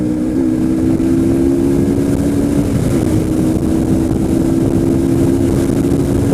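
KTM RC 200cc motorcycle engine at steady, loud revs with a strong sustained drone, a brief dip in pitch near three seconds suggesting a gear change, with heavy road and wind rumble throughout.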